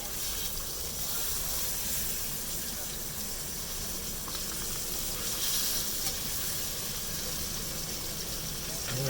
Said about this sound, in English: Now I'm frying these in straight up butter.